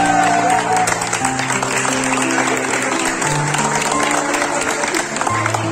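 Applause at a party honouring a young man, steady clapping throughout with background music tones and crowd noise underneath.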